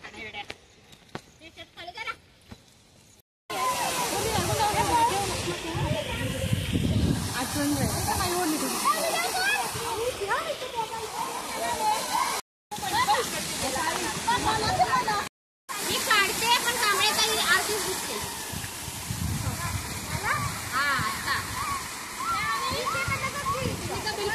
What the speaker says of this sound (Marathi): आम्ही चाललेलो आहे धबधब्यावर